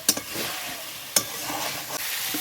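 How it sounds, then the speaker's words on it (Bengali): Marinated chicken is stirred and browned with spices in a pan for chicken curry, with no water added yet. A steady close sizzle runs throughout, broken by a few sharp utensil clicks and scrapes against the pan. "এখন হালকা করে একটু করে নাড়বো আর এটাকে কষাবো।"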